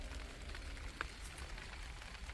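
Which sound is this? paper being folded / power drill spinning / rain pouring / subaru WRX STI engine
rain pouring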